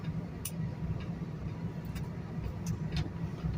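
Road traffic rumbles steadily past a truck on a roadside near a truck wash, a low engine drone with a few sharp ticking clicks scattered through it.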